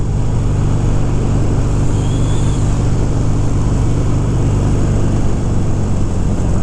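Harley-Davidson Sportster 883 motorcycle engine running loud and close with a steady low rumble, revving on through the gears without pause and no talking.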